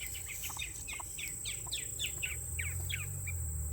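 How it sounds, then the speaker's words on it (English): A loud bird calls repeatedly, a quick series of sharp, bright chirps close by over a low background rumble. "There's a loud bird up there."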